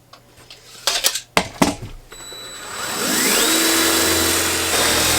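A drill bores a hole through the fiberglass wall of a teardrop micro camper, a steady whirring grind building after a few short bursts and knocks, close and loud with no talk.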